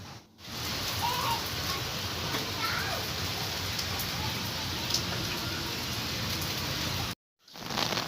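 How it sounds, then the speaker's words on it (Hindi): Heavy monsoon rain pours steadily, a dense broadband hiss of drops on surfaces close by, broken by a brief silent cut near the end before resuming; faint background voices are present. "यहाँ पर मैं बारिश की आवाज़ सुनाऊंगी आपको, इतनी तेज़ बारिश थी"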